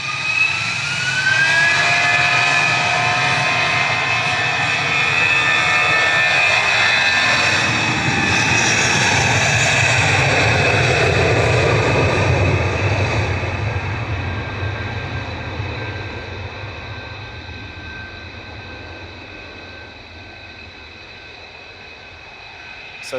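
A 30-year-old Lufthansa Airbus A321 jet taking off from Manchester Airport for Frankfurt roars loudly with rising engine whines, holding strong for about twelve seconds before the thunder fades slowly into the distance.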